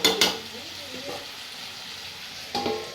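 Food cooks in a pan and is stirred, with two sharp scraping strokes at the start and another near the end over a quieter steady sizzle, and faint voices in the background.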